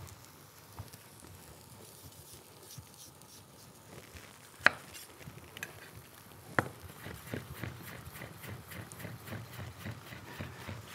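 Knife chopping through cooked watermelon for a tartare on a kitchen board, a steady scatter of soft close cuts with two sharper knocks partway through.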